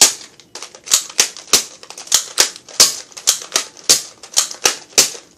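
A Nerf Maverick toy blaster fires about a dozen sharp, snappy shots in quick, fairly even succession, close and loud, each a crisp plastic crack with a brief mechanical clatter.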